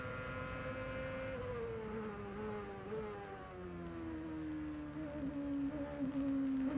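CART race cars at Mid-Ohio in 2001 coming through turn 1, a sustained engine whine with shifting pitch from passing cars, rising toward the end, heard from a broadcast distance.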